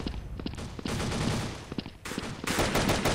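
Rapid automatic gunfire from Thompson and PP19 submachine guns in the shooter game Truy Kich, loud sustained bursts broken by short pauses, with faint footsteps between.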